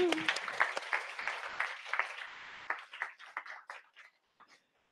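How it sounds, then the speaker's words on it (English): An audience at a JavaScript tech lecture event claps, starting as dense, lively applause that thins into scattered individual claps and fades out within a few seconds, with faint voices mixed in. "So I want another round of applause for Anya."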